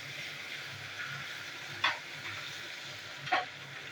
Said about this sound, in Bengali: তো আদা রসুনের পেস্ট ভালো করে ভেজে নেবো।